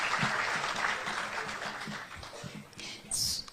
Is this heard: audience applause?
yes